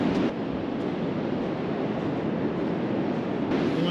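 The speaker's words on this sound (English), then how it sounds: "Just the waves are coming in" Ocean waves roll in on the shore with a continuous, loud wash of surf and a swell of breaking water near the start and end, with no voices.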